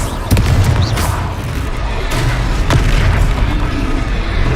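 Explosive Confringo spell blasts in the Hogwarts Legacy video game, loud booming bursts with sharp cracks over a continuous rumbling battle din, several hits in quick succession.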